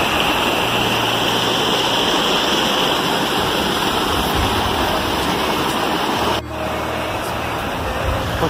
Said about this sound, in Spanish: Pues estamos llegando a la cascada de la Cabeza de Negro o la Cañada del Negro